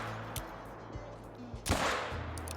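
A single rifle shot fired at a running doe while hunting in the game Call of the Wild cracks once, sharp and short, over a steady low ambient bed with a few faint thumps before it.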